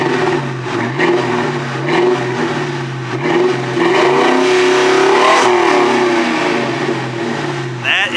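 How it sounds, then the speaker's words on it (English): A 2003 Ford Mustang GT with an aftermarket exhaust kit revving repeatedly outside, loud nearby blips whose pitch rises and falls in several swells over steady idle rumble. "Let's listen to the exhaust from the outside."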